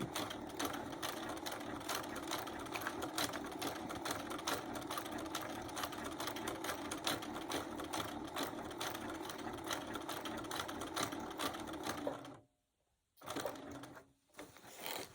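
Sewing machine stitching an appliqué wallhanging, a fast steady mechanical whir of needle strokes running continuously and close, then stopping abruptly near the end with brief bursts after.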